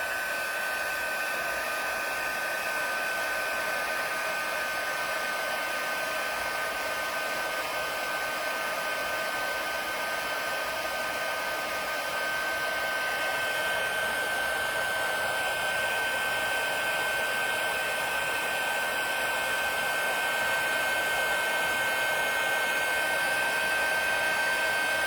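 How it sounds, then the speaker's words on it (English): A heat tool for embossing powder on a stamped strawberry card blows steadily in a constant whirring hiss that holds at close range throughout, with no talk. "now let's go ahead and grab our heat tool and heat it up"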